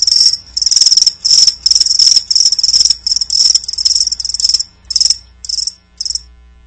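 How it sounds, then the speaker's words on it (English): Loud, dense cricket chirping in rapid pulsing trills, close and continuous, then thinning to a few spaced bursts near the end with no voices. "That's right, crickets."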